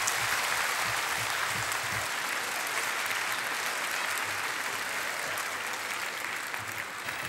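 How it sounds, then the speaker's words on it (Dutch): A theatre audience at a Samson & Gert Christmas show applauds the performers, a broad, steady wash of many hands clapping that holds evenly throughout and tapers slightly at the very end. "Geef ze nog maar een applaus"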